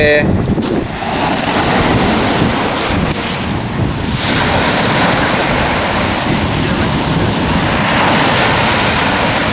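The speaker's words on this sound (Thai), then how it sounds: "ยินเสียงทะเล" Steady roar of sea waves washing onto a seaweed-strewn beach on the Irish coast at Bray and Greystones, loud and continuous, with wind buffeting the microphone and a brief voice near the start.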